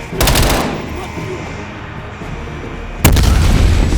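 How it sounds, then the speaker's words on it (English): A grenade bursts in the video game Call of Duty: Black Ops Cold War with a loud, broad blast near the start, a rumbling tail, then a second heavy boom about three seconds later. "Incoming grenade!"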